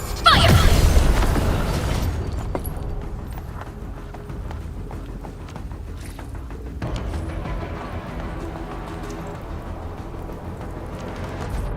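Weapon fire and an explosion in the game Arknights: Endfield: a heavy boom opens, then a low rumbling tail fades under dense background combat noise.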